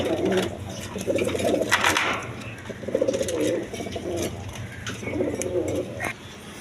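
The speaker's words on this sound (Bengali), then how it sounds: "ডেনিস কবুতর দেখেন" Denis pigeons coo in a repeated rhythmic series of throaty calls at close range, with faint talk and room noise behind.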